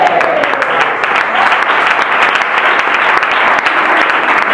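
A church congregation applauds loudly and continuously throughout, a thick wash of close clapping with no pauses.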